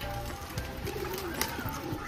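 Soft cooing of pigeons in a village against a busy outdoor background, faint and somewhat distant.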